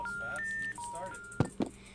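Phone keypad dialing tones in the Roblox video game, a few sustained tones in sequence followed by short bursts, with people talking alongside.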